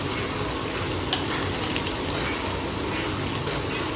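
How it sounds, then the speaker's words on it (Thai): Chili and garlic stir-fry in a pan while scallops with chili are cooked, giving a steady, dense frying hiss with faint stirring scrapes throughout. "ผัดพริกกระเทียมให้หอม"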